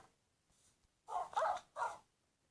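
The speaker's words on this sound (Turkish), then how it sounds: "Dog da böyle köpek arkadaşlar." A dog in a Minecraft dog mod video game gives three loud close barks in quick succession, each short and sharp, after a near-silent start.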